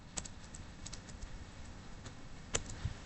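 Typing on a computer keyboard while writing React code, a few scattered, quiet key clicks with long pauses between them and one sharper tap near the end, heard alone with no talk.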